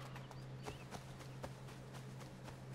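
Horse hooves in the video game Assassin's Creed III clip-clop in a quiet, regular walking rhythm, soft and somewhat distant, with faint ambient background and no talking.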